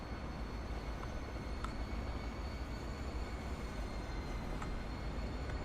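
Trains racing along a track in the Transport Fever video game give a steady, dense rumble of rolling wheels, continuous and fairly loud throughout, with a couple of faint high squeals.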